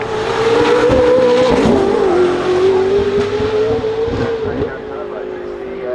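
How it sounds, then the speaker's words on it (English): A Ford Mustang GTD sports car engine roars loud and close as it accelerates up a hill, holding a high, steady tone, fading slightly toward the end. "Tecnica Turbo GTD, making its way up the hill."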